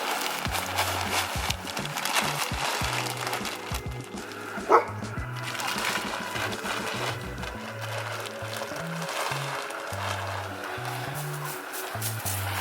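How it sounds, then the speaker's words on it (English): A dog barks repeatedly in short bursts at a steady distance during a winter garden outing, with occasional scraping and wooden knocks around it. "What are you barking at, you goofy dog?"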